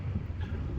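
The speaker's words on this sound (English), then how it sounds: "It's very windy, as you can tell by the way my hair is billowing." Strong wind buffets a microphone at South Beach on the coast, a dense low roar that runs without a break through the short moment.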